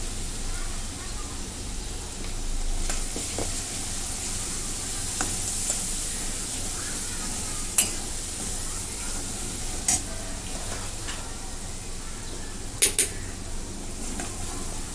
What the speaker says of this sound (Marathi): भाजून घेते हळद